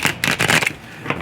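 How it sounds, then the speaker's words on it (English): A quick riffle of tarot cards being shuffled close up, a few rapid crisp flutters in a short burst. "I want to shuffle one more for the bottom of the deck"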